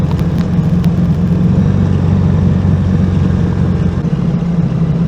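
A car drives over the Col de Cascagny mountain pass at 630 metres, its engine and tyre noise a loud, steady in-cabin drone with a low hum that holds for the whole stretch.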